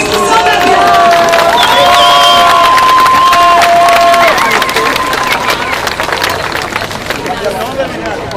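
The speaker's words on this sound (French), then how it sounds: "S'il vous plaît, une main d'applaudissements à M. Christian Berbier." A large crowd at a Gaza solidarity street demonstration in Québec cheers and claps loudly, with whistles and shouting over a constant roar of voices.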